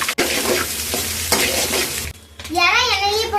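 Mutton sautéing in hot oil in a home kitchen pan, a steady loud sizzle with stirring scrapes that drops out briefly, then returns with a bright, wavering hiss.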